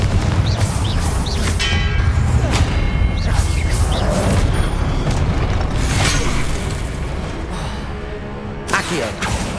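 A Confringo fire-blast spell exploding in the Hogwarts Legacy video game, part of a dense run of loud booming blasts and crackling impacts layered over continuous battle noise, with a sharp burst near the end.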